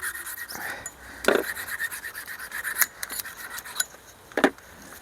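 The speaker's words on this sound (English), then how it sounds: "I'm going to cut the glue out with my Milwaukee multi-tool with my Fane blades." A Milwaukee multi-tool fitted with Fane blades cuts through windscreen glue on a 2023 Toyota Yaris Cross Hybrid, making irregular rasping, scraping strokes at close range with sharp bursts between quieter rubbing, and no talking.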